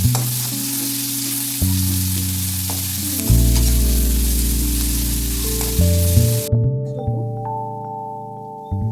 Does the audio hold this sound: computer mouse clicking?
no